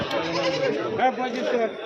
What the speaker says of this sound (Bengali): ছাগল দেখেছো কত ছাগল এই দেখো বাচ্চা বাচ্চা ছাগলগুলো